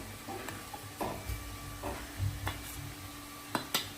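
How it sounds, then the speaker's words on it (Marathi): Frying onions in a pan, with asafoetida and turmeric stirred in, hissing and sizzling steadily, broken by intermittent scraping and stirring knocks. "आता मी काय टाकणार आहे हिंग आणि हळद."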